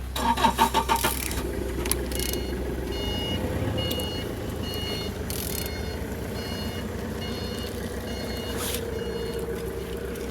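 A Z13DTH engine cranks over with a quick burst of rhythmic pulses, followed by a steady mechanical drone with intermittent high beeps, close and fairly loud.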